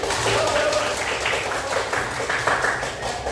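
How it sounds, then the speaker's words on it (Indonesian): A group of children clap their hands together in a classroom, a steady dense patter that fills the short stretch at moderate loudness, with some voices mixed in underneath. "Kita tepuk tangan dulu"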